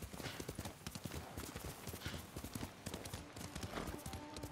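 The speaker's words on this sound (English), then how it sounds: "I'm glad we've got our own horse now as well." A horse's hooves clip-clop in the video game Ghost of Tsushima, a quick steady trotting rhythm, fairly faint, with occasional speech in the background.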